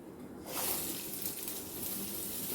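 Chopped chillies tipped into a pan of roasted spices over low gas heat, giving a sudden loud sizzling hiss that starts about half a second in and holds steady until the end, with no talking.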